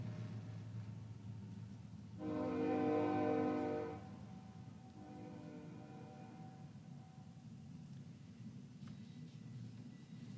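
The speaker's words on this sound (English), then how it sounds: "Just a minute, I'll wait for the train." A train passes near a town meeting hall, giving a low steady rumble, one loud sustained horn blast of about two seconds, then a fainter, shorter second horn.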